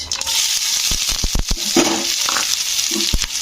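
Onions sizzle in hot oil in a pan with cumin and spices for a potato curry, a steady frying hiss broken by several sharp clinks and scrapes of stirring, close and alone.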